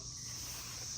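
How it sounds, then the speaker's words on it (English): Cicadas in a Georgia garden give off a steady, continuous high-pitched drone that holds without a break, with low broadband rumble underneath and no voices. "you can see the cicadas"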